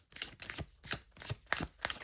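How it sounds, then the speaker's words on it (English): Oversized oracle cards being shuffled by hand in a quiet room, a series of short soft papery riffles and flicks arriving in uneven bursts roughly every half second, close and faint. "I am going to shuffle you out one of these cards"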